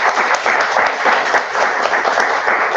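Meeting audience applauding after a speech, a dense, steady burst of many hands clapping together for a few seconds, fairly close and loud.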